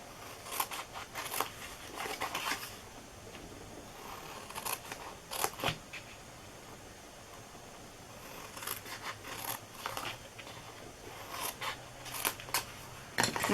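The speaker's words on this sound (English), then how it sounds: "we are going to cut up each of these score marks" Scissors snip through card along score marks while a Christmas ornament treat box is being made: repeated crisp cuts and short scraping snips come in close, uneven bursts with no talking.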